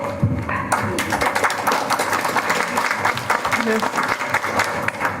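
Formal ceremony audience applauding project contributors, a few seconds of close, dense clapping with a voice talking over it.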